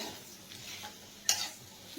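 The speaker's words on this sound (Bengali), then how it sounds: "মশলাটা ভেজে নিলাম নিয়ে এবার কচুটা দিয়ে দিলাম দিয়ে এইবার কিছুক্ষণ ভাজার পরে" Taro frying with spices in a pan, a low steady sizzle broken by a couple of sharp stirring scrapes against the metal, close and fairly quiet, with no talking.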